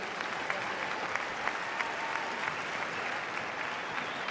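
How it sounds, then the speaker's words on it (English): Spectators at the London Olympia dressage World Cup applaud a rider with steady, moderately distant clapping that fills the whole span evenly. "huge round of applause for Ulrik"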